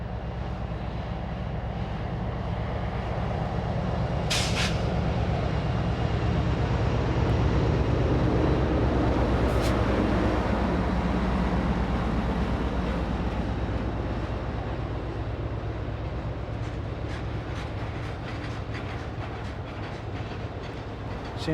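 Heavy train engines, one pulling and one pushing uphill, rumble and labour continuously, a deep steady roar with faint clanks and squeals, building slightly then easing.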